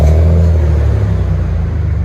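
A 1995 Nissan Cedric with a 3.0L VQ30 V6 and DTM exhaust revs close by, its throaty exhaust rumble swelling and pulsing in quick throttle blips.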